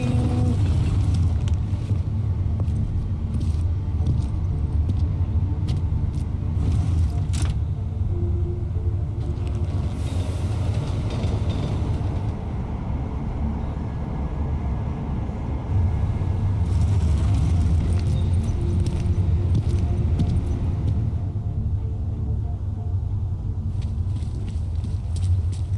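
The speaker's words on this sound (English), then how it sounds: "Taking the train!" A train ride in Deus Ex: Mankind Divided gives a steady, loud low rumble throughout, with occasional rattling and hissing swells over the continuous drone.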